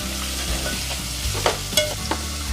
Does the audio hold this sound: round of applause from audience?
no